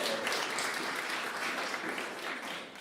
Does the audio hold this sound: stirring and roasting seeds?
no